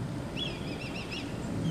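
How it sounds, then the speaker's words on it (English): Birds call over a quiet island-dotted bay, a short run of repeated honking, goose-like notes mid-distance over a low rumbling background of wind or water. "All you hear is the birds."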